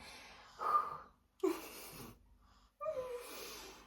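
A woman breathing heavily and out of breath after carrying a child, three wheezing, gasping breaths spaced about a second apart, close to the microphone.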